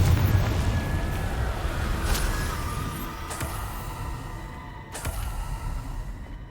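Confringo spell explosions in the Hogwarts Legacy PC game, a deep rumbling blast that decays slowly, followed by a few sharper cracking bursts, fairly loud and without talk.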